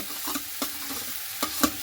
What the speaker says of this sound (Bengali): এই আলুটাকে খুব ভালো করে কিন্তু নাড়াচাড়া করে নিতে হবে পেঁয়াজের সঙ্গে